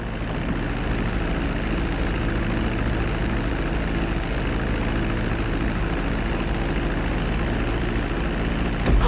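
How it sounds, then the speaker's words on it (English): A propeller airplane taxis along a runway in the GTA V video game, its engine droning steadily and loudly for the whole stretch with no talk. "Now let's get the plane off the runway."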